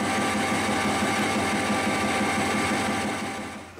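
A lathe cuts EN16T steel and chips at a drilled hole, producing a steady loud buzzing whir with a gritty rasping texture that fades out at the end.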